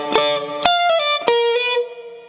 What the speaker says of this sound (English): The first lick that we're going to hear is a really cool kind of rockabilly swing lick.